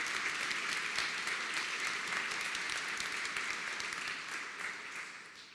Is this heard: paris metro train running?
no